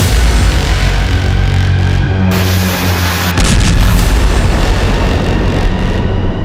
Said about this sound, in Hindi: ये स्पाइक मिसाइल के कंट्रोल्ड हमले की तस्वीरें हैं।